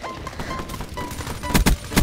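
Weevil gun in Call of Duty: Black Ops 3 fires in rapid bursts of sharp shots over a busy game soundscape, getting louder toward the end.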